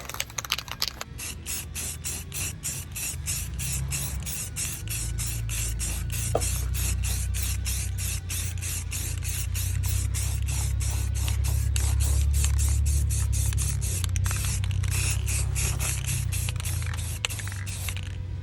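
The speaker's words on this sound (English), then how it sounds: "about to start shooting the tint" An aerosol spray can of tint sprays onto taillights on a 2002 Camaro SS SLP, a steady loud continuous hiss running through nearly the whole stretch with a low rumble beneath.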